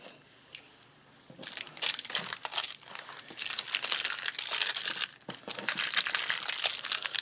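Small plastic bags from a South African SERAC Outdoor Cuisine MRE ration pack being handled, giving bursts of close crinkling and rustling that begin after a quiet opening second and go on steadily, with no talking.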